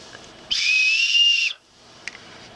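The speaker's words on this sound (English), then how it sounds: "You have a whistle on the other side." Survival whistle built into an AMK SOL Phoenix multi-tool gives one shrill, piercing blast about a second long, close and loud, then stops.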